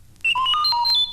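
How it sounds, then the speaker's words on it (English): A quick run of chirpy electronic R2-D2 robot beeps and warbles, bright and close, lasting about a second. "You will know it is time to turn the page when you hear R2-D2 beep like this"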